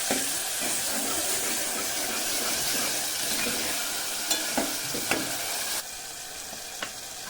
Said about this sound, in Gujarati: હવે આ બધું મિક્સ કરીને ઘડીક ચડવા દેવું.